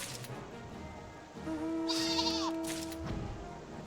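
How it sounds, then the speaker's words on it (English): A video game sheep lets out a clear, wavering bleat in the middle of the clip, loud and close, with faint game ambience around it and no talking. "That's a cute little sheep."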